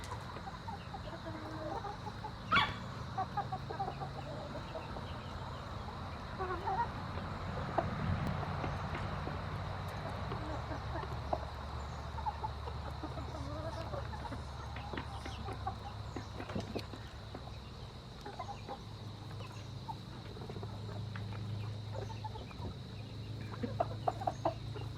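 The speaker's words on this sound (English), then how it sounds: "These big hens are bullies." Hens in a backyard chicken enclosure cluck and murmur softly at a moderate distance, with scattered calls over a steady outdoor background.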